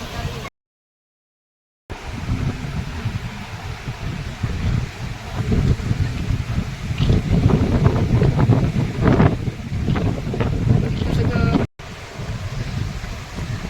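Strong wind buffets the microphone along the sea coast near Shrivardhan, with waves surging on the shore behind it, loud and continuous apart from a short silent gap near the start.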